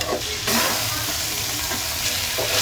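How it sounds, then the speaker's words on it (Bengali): Raw chicken pieces frying in a little oil with turmeric and chili powder, stirred for a spicy chicken bhuna; a steady, close sizzle with repeated scraping stir strokes, no talking. "আর সাথে দিলাম হলুদের গুঁড়া মরিচের গুঁড়া"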